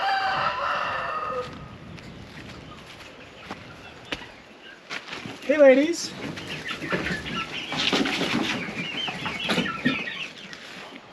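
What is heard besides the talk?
chickens and young chicks clucking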